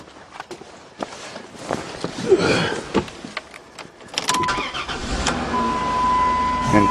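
A 2002 Dodge Caravan minivan cranks and catches around the midpoint, then settles into a steady, fairly close idle, with shuffling footsteps and handling noises before the start.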